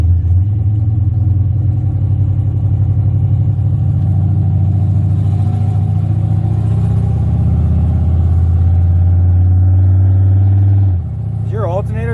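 A GMC Yukon engine runs after its first start, a loud, steady low rumble close by that holds evenly for about eleven seconds before dropping off abruptly near the end.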